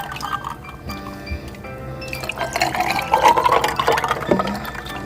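Water poured into a glass over ice for iced coffee, a rising splashing fill with faint clinks, moderately close and steady for several seconds.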